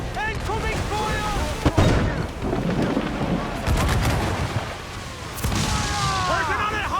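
Naval cannon fire booms during a ship battle in Assassin's Creed 4 Black Flag, with heavy low blasts and rumbling amid crashing waves and chaotic action, while voices shout over the din.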